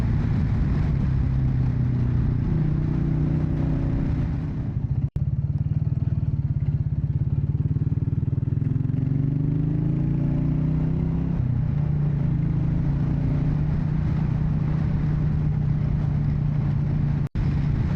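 Several Royal Enfield motorcycles ride along a narrow country road, giving a steady, close engine drone with low rumble and wind that runs almost the whole time, with gentle rises in revs and no speech.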